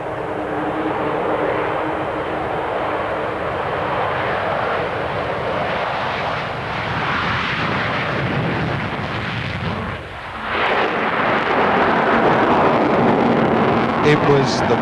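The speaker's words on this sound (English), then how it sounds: "the most famous of the V bombers, the unforgettable Falcon, the huge delta shape which was a showstopper whenever it appeared" An Avro Vulcan delta-wing V bomber flies at the 1993 International Air Tattoo at RAF Fairford, its loud, sustained jet roar rumbling and swelling throughout while a narrator talks over it.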